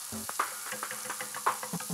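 Chopped onions frying in a pan, a steady bright sizzle with scattered pops and stirring scrapes, close and continuous without speech.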